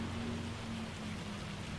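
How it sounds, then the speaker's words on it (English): Hail falls steadily in the Farming Simulator 25 video game, a dense, continuous rushing patter with a low rumbling undertone and no voices. "it looks like the hail is going to stop"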